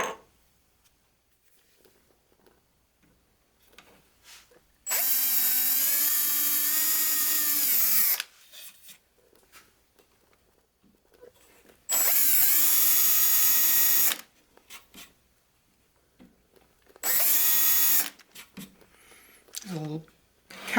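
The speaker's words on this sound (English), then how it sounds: "It's just now a matter of drilling a pilot hole and then screwing these down." A power drill bores pilot holes into the wooden cross bracing on the back of an oil painting in three loud, steady whirring bursts of a few seconds each, with quiet handling noises between them.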